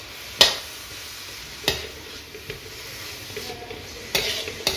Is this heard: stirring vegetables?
yes